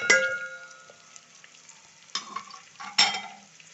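Cumin, fenugreek seeds, finely chopped garlic and ginger, and broken chilies go into a hot onion tempering for chana dal khichdi. Close, sharp sizzling bursts and stirring flare up at the start and twice more, with quieter frying between.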